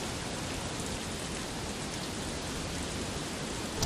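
Steady rain pours down in an even, hissing patter that never lets up, with no voices, in the video game Harvest Moon: A Wonderful Life.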